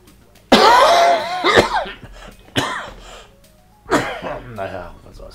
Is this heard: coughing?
yes